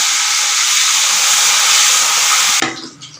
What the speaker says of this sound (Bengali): দেখি এটা হালকা হালকা ফ্রাই হবে নাকি